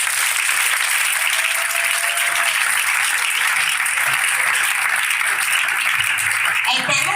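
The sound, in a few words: church congregation applauding and cheering the Lord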